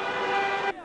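A single car horn blares in a Belo Horizonte street during a celebration by Atlético football fans, one short sustained blast close by.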